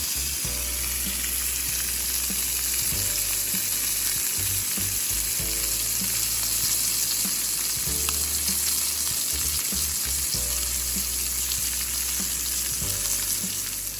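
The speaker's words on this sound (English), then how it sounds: "All right, hot grease, seasoned loin" Seasoned venison loin fries in hot bacon grease in a pan at a camp, giving a loud, continuous sizzle that stays steady throughout, with faint music beneath it.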